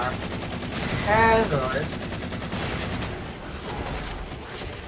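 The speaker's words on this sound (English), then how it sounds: "And I'm just shooting a DMR." Rapid DMR rifle fire from Halo 4 Spartan Ops crackles in a dense, steady stream of close shots, with game effects layered in and a player talking over it.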